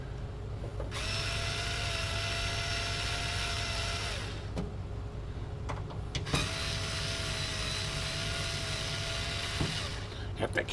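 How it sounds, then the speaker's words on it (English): A power screwdriver backs screws out of a Panasonic RF-4800 shortwave radio in two long whirring runs of a few seconds each, close up, with brief clicks between runs and a voice faintly in the background. "Thank goodness for power screwdrivers"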